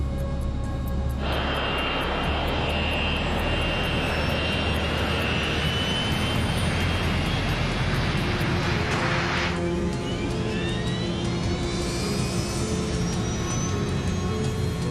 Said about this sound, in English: The 727 is seconds away from leaving the ground.